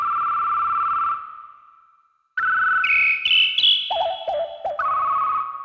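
Synthesizer tones from the Synplant soft synth: a steady held pitch fades out, then after a brief silence bright tones return and step upward through several pitches before dropping into a wavering lower note, clean and close with no voice.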